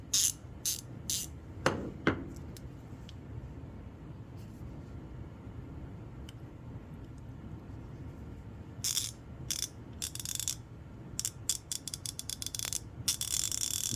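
Rapid clicking from the pawl of an extra-long-handle 90-tooth ratchet wrench, bursts of sharp ticks at the start and a quicker run of clicks near the end, close over quiet background.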